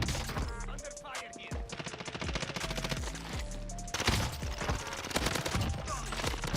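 Dense, loud Krieg rifle gunfire in Call of Duty Warzone, rapid bursts layered with other weapons and explosions filling the mix continuously, with players talking over it.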